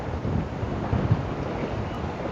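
Wind buffets steadily out at sea during a fishing trip, giving a continuous low rushing roar with a few brief gusty thumps and no talk.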